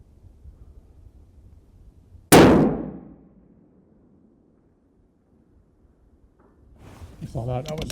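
A single loud, sharp metallic clang of a 300 Win Mag rifle round striking a small steel target at an outdoor range, ringing and decaying over a second, with wind noise around it and a voice beginning at the end.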